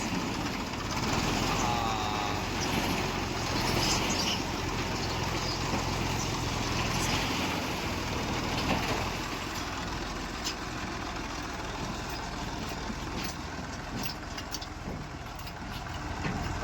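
A Sonalika 740 tractor engine idles nearby in a steady, continuous mechanical rumble that holds at an even level throughout.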